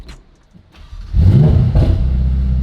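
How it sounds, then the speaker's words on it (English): A Mazda RX-7 rotary engine cold-starts on a new exhaust: a short cranking whir, then the engine catches at about one second and settles into a loud, steady, rumbling idle close by with a brief rev. "This is going to be the first cold start."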